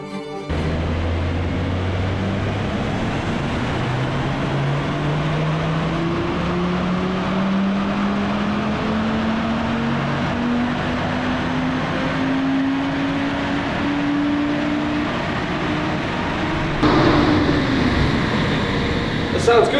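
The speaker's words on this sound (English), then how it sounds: "I'm hoping it sounds good because I've not actually heard it under load yet" An Audi RS3 engine and exhaust pull under load, a steady drone rising slowly in pitch for most of the stretch before a louder surge near the end, heard from inside the car.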